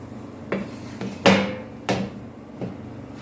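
Pizza dough is moved into a metal pizza pan, producing a few distinct knocks and clanks spaced about half a second apart, the loudest near the middle, fairly close with no talking.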